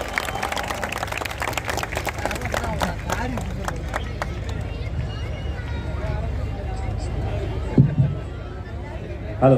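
Audience at a Tamil pattimandram debate stage show claps for a speaker being welcomed on, scattered sharp claps over a murmuring crowd that thin out and fade after a few seconds.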